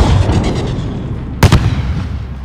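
An explosion in the video game Modern Warfare during an embassy mission, a loud, sudden boom that rises out of a constant low rumble of battle noise and fades quickly.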